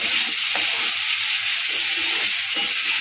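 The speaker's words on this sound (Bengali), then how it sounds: "আবারও ভালো করে নেড়ে চেড়ে নেব।" Khichuri with salt being stirred and fried in a pan, giving a loud, steady sizzle with scraping stirs throughout and no talking.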